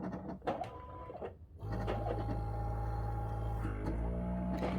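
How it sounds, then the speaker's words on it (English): A Hero Health automatic medication dispenser dispensing pills: a steady mechanical whirring and grinding starts partway through and runs continuously, loud and near, after some brief handling clicks and taps. "So I'm going to go ahead and dispense it. Push dispense."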